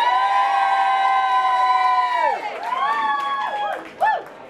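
A crowd at the Stoke Con Trent cosplay final cheers and whoops loudly for a contestant, with sustained raised voices that dip briefly and then swell again, plus a short burst of shouting near the end.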